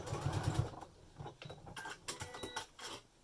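Sewing machine stitches a fabric face mask in short bursts, a quiet mechanical whirring and rattling that starts and stops several times at close range.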